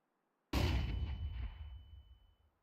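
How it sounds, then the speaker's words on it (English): A flashbang grenade detonates in a first-person shooter, one sharp loud bang after a silent lead-in, then a long ringing decay that fades over two seconds. "Throwing flashbang."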